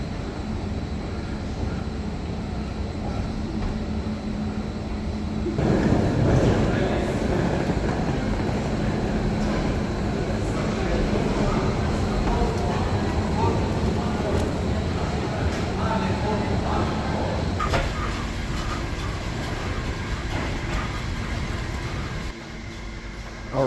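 A metro train rumbles and hums steadily through a station for a long stretch, a continuous mechanical drone with a voice talking over it.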